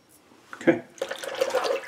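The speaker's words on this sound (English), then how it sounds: "Let's do a quick rinse." Water runs briefly from a tap to rinse a razor blade during a shave, a short close trickle and splash with a few bright drips, fairly quiet.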